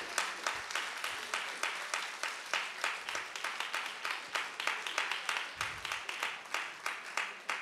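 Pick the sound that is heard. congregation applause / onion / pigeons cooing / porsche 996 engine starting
congregation applause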